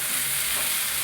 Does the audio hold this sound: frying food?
yes